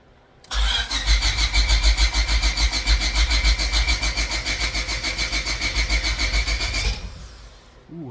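A Honda Civic engine cranks and catches, holding a loud, throbbing, pulsing run for about six seconds before dropping away, heard up close.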